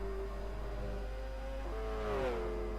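GT300 race car engine in a racing video game, a steady mid-pitched drone that rises in pitch as it accelerates, then shifts gear and climbs again, continuous and close.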